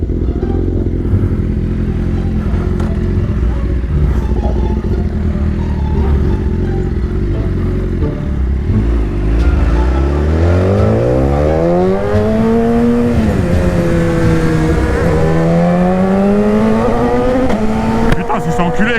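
A loud BMW S1000RR sportbike revs hard and accelerates, its engine note climbing steeply through rising sweeps after a steady rumbling stretch, with people talking over it.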